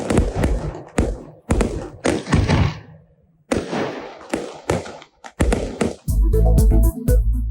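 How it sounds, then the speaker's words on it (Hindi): New Year fireworks burst at New Zealand's Sky Tower as a series of loud, sharp bangs and thuds with brief gaps, ending in dense booming crackle. "न्यूजीलैंड के स्काई टावर पर आतिशबाजी"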